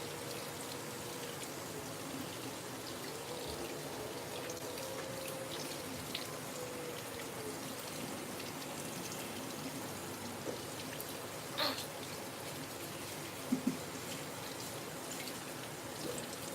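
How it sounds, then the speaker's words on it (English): Shaving brush rinsed under a running tap, a steady close wash of water with a few brief drips and splashes over about sixteen seconds. "let me just rinse the brush out"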